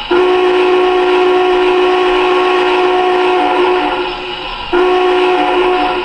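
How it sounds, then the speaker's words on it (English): The steam whistle of a model Union Pacific 4-6-6-4 Challenger locomotive blows in one long, steady, shrill tone, breaks off briefly near the end, then sounds again. No voices. "here's this beautiful whistle"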